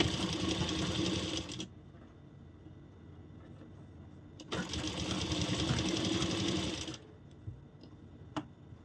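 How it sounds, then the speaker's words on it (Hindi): Electric sewing machine stitching fabric for a katori blouse, running in two loud steady bursts of rapid mechanical whirring separated by a quieter pause with faint handling clicks, close and without talk. "इस तरह रखते हुए हम इस पे सिलाई शुरू कर लेंगे।"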